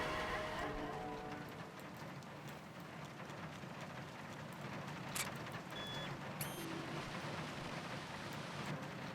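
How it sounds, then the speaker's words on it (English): Steady rain drums on a roof in the video game Killer7, a dense continuous hiss that holds at an even level, with a few faint clicks and a brief tone on top. "The sound of the rain hitting the roof is nice."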